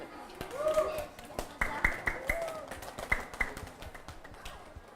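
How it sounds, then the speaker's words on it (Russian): A small group applauds a birthday girl at an indoor celebration with scattered, uneven handclaps that swell briefly and taper off, while voices talk underneath. "Давайте похлопаем в честь именинницы"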